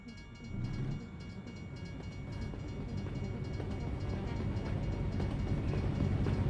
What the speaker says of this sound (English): Now, is the train long enough?